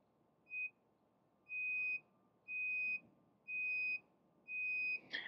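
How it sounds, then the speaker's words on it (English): Five evenly spaced electronic beeps from an electric scooter's turn signals, each about half a second long, repeating in a steady rhythm over quiet background hum. "Now listen to your turn signals."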